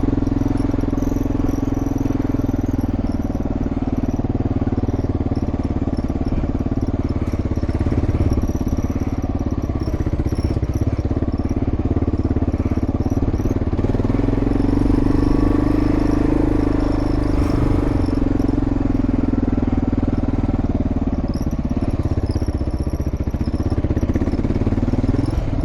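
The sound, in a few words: KLR motorcycle engine riding off-road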